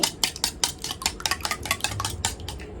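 Quick rhythmic clinking of a utensil whisking a single egg in a bowl, a rapid series of sharp taps repeating without pause.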